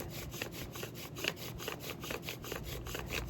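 Friction fire spindle drilling into a wooden hearth board in the desert, grinding out dust under light pressure: steady, even back-and-forth rubbing strokes, close but quiet, with no talking.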